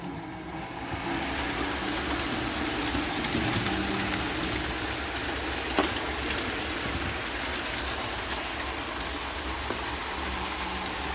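KR Models BR 10100 Fell model train running on its track, a continuous dense rattling rumble with faint clicks and one sharp tick, steady and fairly loud throughout with no voices.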